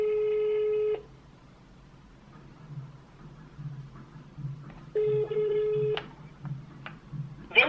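Phone ringback tone during an unanswered call, two steady one-second tones several seconds apart, close and clear, with quiet room noise and small handling sounds between them.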